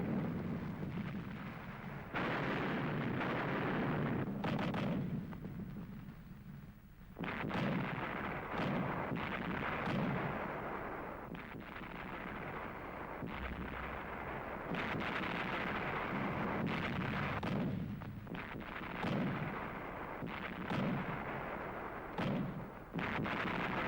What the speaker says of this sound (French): Le dépôt de carburant ennemi explose en feu.